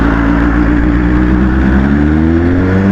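A BMW S1000RR motorcycle fitted with an Austinracing exhaust revs loudly up close, its deep, rising engine note steady and continuous throughout.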